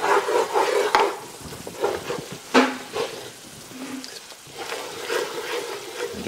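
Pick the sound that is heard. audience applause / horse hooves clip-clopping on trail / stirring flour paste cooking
stirring flour paste cooking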